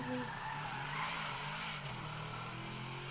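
A car driving in GTA 5, engine droning steadily with a slight rise in revs midway, loud and close, accompanied by a high steady whine.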